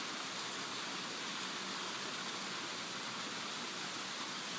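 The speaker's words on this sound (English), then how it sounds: "the noise you're hearing is rain." Steady rain falls outdoors in a soft, even hiss that never changes, faint and without voices.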